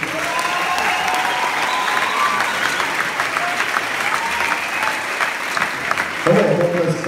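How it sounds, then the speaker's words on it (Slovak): Sustained audience applause at a junior volleyball championship closing ceremony in Stropkov, dense clapping from a crowd that continues throughout, with a voice briefly cutting in near the end. "To bol potlesk pre trénerov, rodičov, priateľov a podporovateľov volejbalu"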